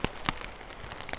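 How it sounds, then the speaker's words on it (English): Soft, scattered patter of rain with a few distinct drops tapping on a surface, fairly quiet and close. "I almost forgot it's raining."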